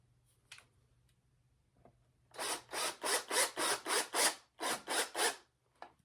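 A self-tapping screw is driven into a wooden antler mounting board, heard as about ten loud, close, evenly spaced grinding bursts after a quiet start with a few faint handling knocks.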